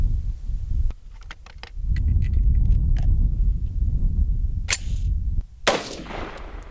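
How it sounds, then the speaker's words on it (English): A FoldAR folding rifle is fired at a target outdoors. A couple of sharp, bright cracks ring out over a heavy, continuous low rumble of wind or handling noise. "Take our 3 rounds and shoot our next group."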